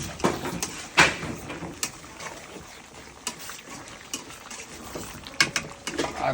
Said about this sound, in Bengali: মরিচ ভালোভাবে নাড়তে হবে।